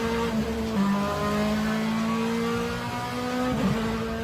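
BMW E92 M3 GT race car with a P65 V8 of about 500 horsepower, revving hard near the microphone with a steady high-pitched engine whine that rises, dips briefly and climbs again.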